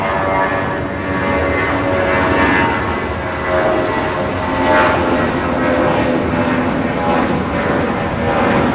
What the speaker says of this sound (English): That is United Airlines 2431 taking off to Jackson on the A320.